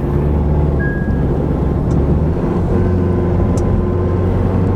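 Steady low engine rumble from a running Acura RDX with over 150,000 miles, close and continuous, with a faint irregular unevenness like skipping; no talking.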